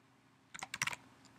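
Short burst of quick clicks from a computer keyboard as code is typed, a handful of close keystrokes in under half a second, fairly faint against a quiet background.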